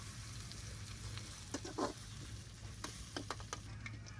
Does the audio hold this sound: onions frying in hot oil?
yes